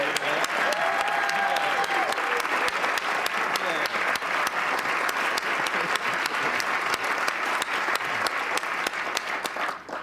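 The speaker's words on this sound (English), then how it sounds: "Let's have a big round of applause for everybody." A studio audience at a daytime TV talk show applauds in a dense, steady roar of clapping that holds at full strength for about ten seconds.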